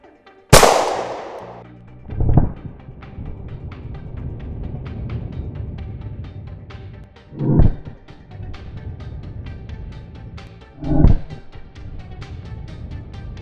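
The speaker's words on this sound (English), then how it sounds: "Next, we're gonna try with subcompact 9mm." Subcompact 9mm pistol fired outdoors: one sharp, loud crack at the start, then three more shots spaced a few seconds apart, each with a booming tail over a steady background rumble.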